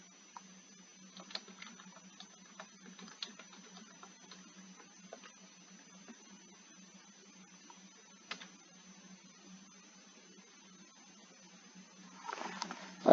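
Someone types on a computer keyboard, close and fairly faint, in irregular clusters of light clicks with a few sharper taps over a low steady hum, ending in a brief louder rustle.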